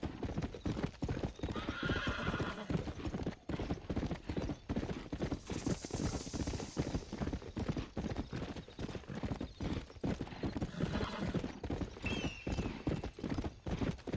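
A horse gallops in the video game Red Dead Redemption, a steady rapid clip-clop of hooves that runs without a break. Whinnies rise above the hoofbeats now and then, and no voice talks over them.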